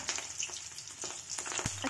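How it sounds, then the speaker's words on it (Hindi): Fish eggs fry in hot oil with green chilies, giving a close, crackling sizzle with scattered pops and spits. A brief low thud comes near the end. "अच्छे से इसको हम तेल में भूनेंगे।"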